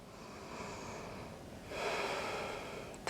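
Slow, audible breaths during a yoga downward dog pose, a long soft airy exhale followed by a stronger, louder breath, close to the microphone with no talking.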